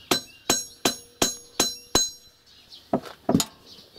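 A hammer peens a scythe blade, sharp metallic ringing strikes landing in an even run of six at about half-second intervals, then a few looser, quieter taps after a brief pause, close and loud.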